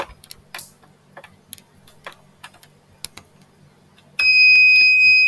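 A small electronic buzzer in a homemade burglar alarm circuit wired to a computer starts after scattered clicks and taps, then sounds as a loud, steady, high-pitched tone that holds to the end.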